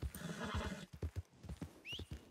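A horse whinnies loudly, followed by snorts and hoof clops, with a high chirping sound near the end.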